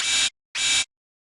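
NI Massive noise oscillator with LFO 5 driving the amp, heard as two bright, hissy bursts with sharp cutoffs and a short gap between them, louder and clean with no voices.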